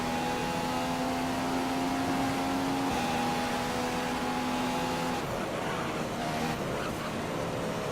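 An F1 race car engine in a racing video game at the Chinese Grand Prix, a steady high whining drone that holds its pitch and then shifts partway through, with no talking.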